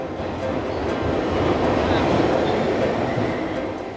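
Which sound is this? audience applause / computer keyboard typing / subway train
subway train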